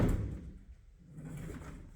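A hotel room's sliding door between bathroom and bedroom rolls along its track with a soft, low rumble and a faint thud, nearby and quiet in an otherwise still room.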